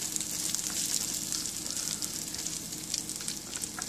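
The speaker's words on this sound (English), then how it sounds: "This is crackling because I just washed this, so give it a good stir so they get cooked on other side." Freshly washed peanuts crackle and sizzle as they roast and are stirred in a pan, a close, steady hissing frying sound with scattered small pops and no talking.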